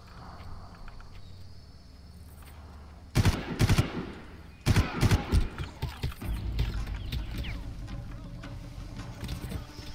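Minigun fire in the video game Far Cry, heard as loud sustained bursts of rapid gunfire that start about a third of the way in, pause briefly, then return as continuing volleys over a background of insect-like ambience.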